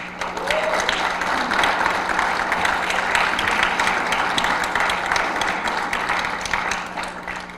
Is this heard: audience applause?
yes